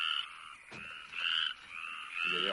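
Several frogs croak through the night in overlapping rasping calls that rise and fall in a loose rhythm, fairly close and clear over a quiet background, with no talking.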